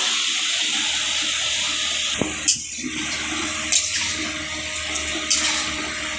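Water poured into a pan of marinated chicken being cooked: a steady, loud rushing pour across the whole stretch, with a few faint metallic clinks and knocks of a utensil against the pan.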